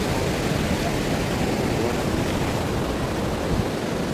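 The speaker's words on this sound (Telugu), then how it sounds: "ఇప్పుడు చూడండి ఒకసారి, వాటర్ ఎంత ఉధృతంగా వస్తున్నాయి." Water from the opened Musi river dam gates roars in a loud, steady, dense wash of rushing flow, continuous and close with no pauses.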